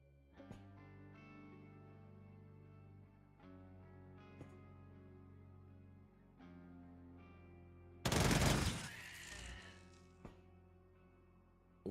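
Turrets firing guns in the sci-fi game Quasimorph on Mars, faint clicks and tonal hum, then a sudden loud burst of gunfire and impact noise that decays slowly, with a final sharp hit.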